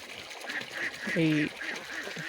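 Ducks on a 700-bird egg farm fed napier grass call amid a busy flock murmur, with one clear, nasal quack standing out midway, and a voice talking faintly underneath.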